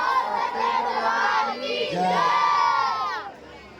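A crowd at a village jagran for Mata Sheranwali in Asal shouts the jaikara in two loud collective bursts, rising voices swelling close and full before fading out.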